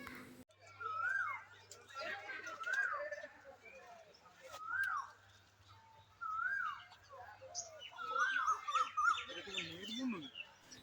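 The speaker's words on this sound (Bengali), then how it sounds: "এরপরে শুনুন যে পাখিদের ডাকটা কত সুন্দর শুনতে লাগে" Birds call and chirp outdoors in a calm natural setting, with clear whistled notes and twitters repeating at intervals over a faint low hum.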